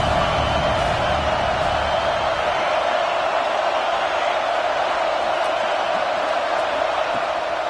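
A college football stadium crowd at Ohio State versus Oregon keeps up a loud, unbroken roar throughout, dense and even with no distinct voices standing out.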